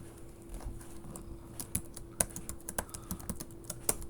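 Someone types a password on a computer keyboard, a quiet run of quick, uneven key clicks close by, with a few sharper taps standing out over a faint steady hum.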